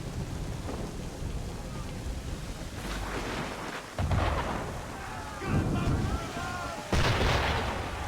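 Ship cannon fire in Assassin's Creed 3 booms in heavy, rumbling bursts over a continuous rain-like wash, with a few distinct thuds spaced a couple of seconds apart and moderately loud.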